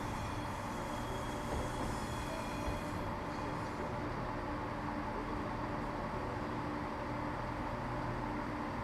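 A Class 170 diesel multiple unit in the Train Simulator 2021 video game runs on the Edinburgh to Glasgow route, giving a steady, unbroken rumble of engine and rail noise with no break.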